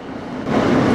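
An MTA NYC Subway R160 F train running between stations, a loud rumbling roar that swells sharply halfway through the brief moment.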